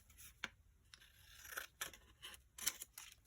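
Scissors snipping a small square of paper for a handmade folio, several quiet separate cuts and rustles, close and faint.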